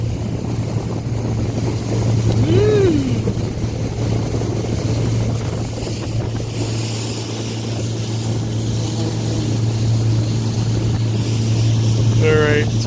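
Motorboat engine droning steadily while running through a channel, loud and close throughout, with wind and water noise and a couple of brief higher squeaks over the constant hum.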